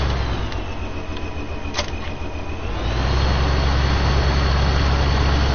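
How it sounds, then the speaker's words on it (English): A green tractor engine in Farming Simulator 15 drones steadily at close range, its low rumble swelling louder and more constant partway through as the tractor gets moving. "the green tractor"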